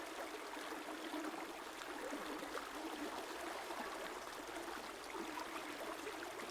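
A river flowing steadily, a continuous broadband rush of water with a soft trickling texture, even and unbroken throughout with no voices.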